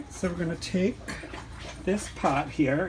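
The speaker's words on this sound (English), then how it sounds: "You may hear some dogs in the background." Dogs whimper and yip in short, pitched bursts under a nearby voice speaking in a home kitchen, the cries rising and falling several times over a few seconds.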